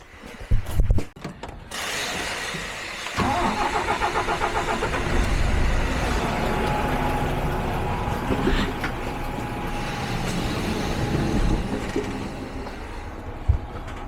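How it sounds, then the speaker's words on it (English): A DAF MX diesel truck engine, the kind linked to camshaft failures, cranks briefly with clattering starter bursts, then catches and settles into a loud, steady idle rumble that continues to the end without speech. "So truck's running."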